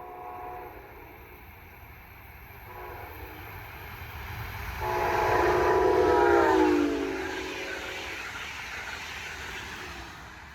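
A Brightline passenger train passes at night southbound at a road crossing, rumbling steadily as its horn sounds one loud sustained blast midway, then fades back to rolling noise.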